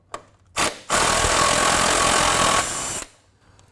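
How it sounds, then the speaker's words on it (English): Loosening strut rod bolts on a Mustang's front suspension with a wrench: a short scrape, then a steady loud grinding rasp for about two seconds that stops abruptly, close up. "I'm going to take these two bolts for the strut rod out"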